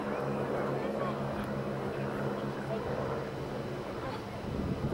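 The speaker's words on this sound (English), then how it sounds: "That's the aircraft slowing down to their slowest flying speed possible." A skydiving jump aircraft's engine drones steadily as it slows toward its slowest flying speed, a continuous low hum with layered tonal lines, heavy wind rush over the microphone, and a slight easing in loudness near the end.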